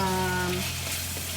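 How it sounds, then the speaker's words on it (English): Chili frying in a pan for char koay teow rice noodles, a steady crackling sizzle up close, with a brief tonal hum fading out early and the frying continuing alone. "just mix it and cook the chili for a little bit"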